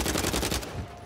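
Bursts of rapid automatic gunfire from the Uncharted 4 video game rattle loudly and close for over half a second, then break off into quieter game ambience.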